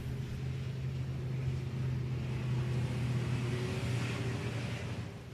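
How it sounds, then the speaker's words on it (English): A race car, the #45 of Todd Weldon, pulls away under its own power after damage, giving a steady low engine rumble that holds at a constant level throughout. "Car able to pull away under its own power"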